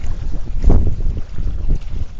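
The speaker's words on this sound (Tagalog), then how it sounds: "At malakas ang hangin." Loud gusting wind buffets the microphone in heavy, uneven rumbling blasts, with a watery, open-air roar behind it, at low water during ultralight fishing.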